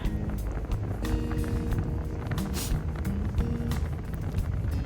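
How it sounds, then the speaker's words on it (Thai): A car drives home along a road in heavy snow and wind, giving a steady, close rumble of engine and tyre noise with wind buffeting the cabin throughout. "ขับรถกลับบ้าน ให้ชมบรรยากาศรอบ รอบๆนะคะรอบถนนรอบข้างถนนเนาะ"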